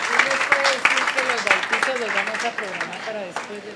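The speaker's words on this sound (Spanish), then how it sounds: "Denle una ofrenda de palmas al Señor." A church congregation breaks into applause, a brief burst of clapping mixed with a preacher's voice speaking loudly over it.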